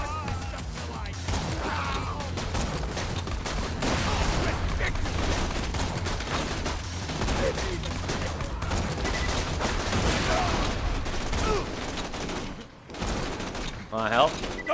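Gunfire in Borderlands 2, rapid bursts of shots layered over a loud, busy battle mix for most of the stretch, with voices talking over it and a brief lull near the end.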